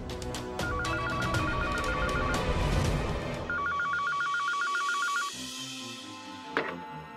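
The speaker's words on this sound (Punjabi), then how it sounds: "ਫੋਨ ਵੱਜ ਰਿਹਾ, ਜਾ ਕੇ ਸੁਣ।" An electronic telephone rings in two bursts of rapid warbling trills over a music score, fairly clear, followed by a softer low tone and a brief knock.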